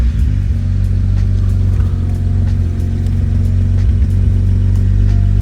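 BMW N54 engine running at idle after starting, a loud, close, steady low rumble with a slightly uneven throb that holds constant throughout, no speech over it.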